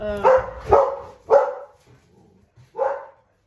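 Dogs bark indoors, four loud close barks in an uneven burst with a short pause before the last, no talk over them.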